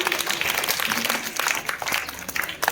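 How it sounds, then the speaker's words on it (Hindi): Applause for a team at a quiz competition, a dense patter of clapping hands sustained for a few seconds with a faint crowd murmur beneath. "जोरदार ताली हो जाए इनके लिए।"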